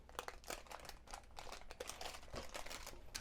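Parchment paper crinkles and rustles as it is handled and pulled from an air fryer while making cottage pie, giving a steady run of close, bright crackles.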